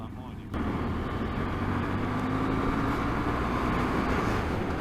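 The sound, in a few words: camper vehicle engine revving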